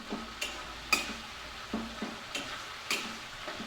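Spices with salt and turmeric are stirred in a pan over a high gas flame for a potato and cauliflower curry, with a soft sizzle under rhythmic, scraping spoon strokes about every half second.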